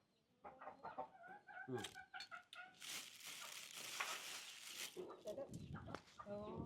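Chickens cluck and squawk close by in a burst of choppy calls. A hen's drawn-out cries follow, over a steady background wash.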